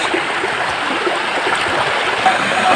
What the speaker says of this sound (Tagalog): nakipunta na kami dito sa isang falls